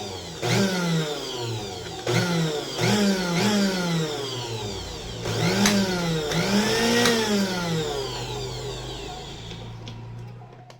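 A blender motor, fitted with a replacement coupler, whirs in short bursts that rise and fall in pitch, several starts and stops, then one longer run fading out, with no talking.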